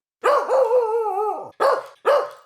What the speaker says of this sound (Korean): 우리 집 토토는 고양이를 보며 사납게 짖어대기 시작했다